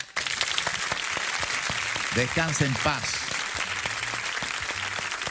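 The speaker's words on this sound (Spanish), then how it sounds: "para él este fuerte aplauso" Audience applause on a Puerto Rican TV gossip show, honoring the late salsa singer; steady clapping runs throughout under a host's speech, with music entering in the middle.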